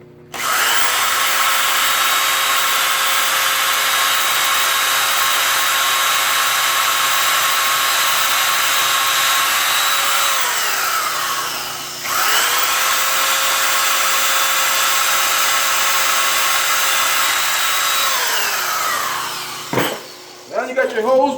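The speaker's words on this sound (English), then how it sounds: "Lay that down, go and drill your holes." A power drill bores holes in kitchen cabinets through a cabinet-knob template in two long sustained whines, each ramping down as it ends, close and loud, followed by a brief clatter.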